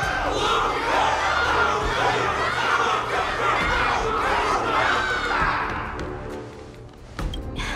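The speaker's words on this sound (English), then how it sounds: "Everyone's cheering for you, Luca!" A large crowd cheers and shouts loudly and continuously at a battle, the roar holding steady before easing off near the end, with a sharp burst at the close.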